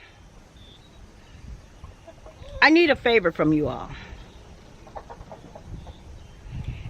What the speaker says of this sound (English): Let me let you guys see my roosters and hens.